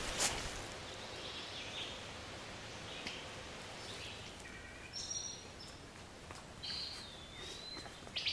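Birds sing along a hiking trail near Pittsford, Michigan: faint, scattered chirps and whistled calls over quiet rustling and soft footsteps, with a few brighter notes standing out toward the end.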